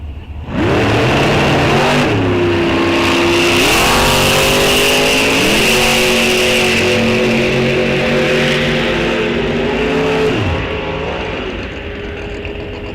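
Super Gas drag cars race at an NHRA National Open event at Rock Falls Raceway. Engines roar loud and close, rising through several gear shifts in one sustained, full-throttle blast before backing off at the end.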